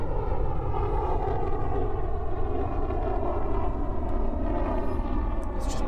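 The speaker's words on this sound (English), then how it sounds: "It's got to be the heaviest fighter we've had today, surely." A heavy fighter jet flies past at an air show with a loud, dense, continuous engine roar that holds steady throughout.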